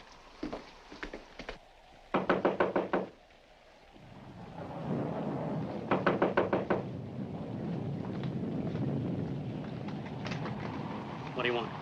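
Knocking on a front door comes as several short bursts of rapid raps against a heavy backdrop of rain and storm noise.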